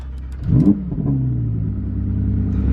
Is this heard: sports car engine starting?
yes